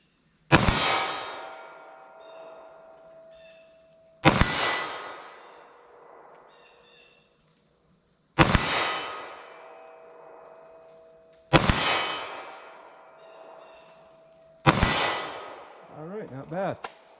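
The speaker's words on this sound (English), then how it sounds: "I'm gonna shoot real slow just to try to get really good accuracy" Five slow, evenly spaced 9mm pistol shots strike a steel target at 25 yards, each a sharp bang followed by a ringing metallic clang that decays over a couple of seconds before the next.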